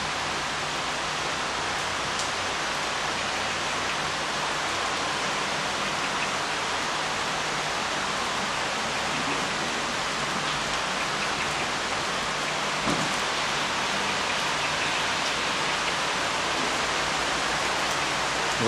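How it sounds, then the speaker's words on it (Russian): Steady rain pouring down in Port El Kantaoui, Sousse, Tunisia, a dense continuous hiss of drops on surfaces that runs unbroken from start to finish with no voices. "Ну тут в Тунисе дождь пошел."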